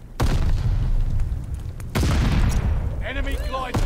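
A stun grenade goes off in Call of Duty Vanguard, two heavy booming blasts about two seconds apart over constant gunfire-like rumble, followed by a brief ringing, warbling tone.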